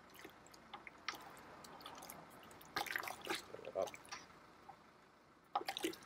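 Hot water is shaken around a container of liquid malt and the syrupy remainder is tipped into a home-brew American porter/wheat batch: soft sloshing, drips and a few quick splashy pours over quiet room noise, with a person talking.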